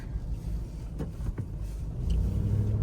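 A car rolling along a riverside road near the Dnipro drives off after a speed bump, its engine rumbling low and building louder toward the end, with a couple of faint knocks and no talk.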